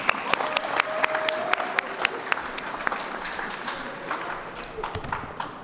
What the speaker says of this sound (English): One more round of applause for all of you.